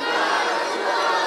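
Large religious gathering shouting a takbir slogan in unison, a loud, dense wall of voices filling a short burst without pause.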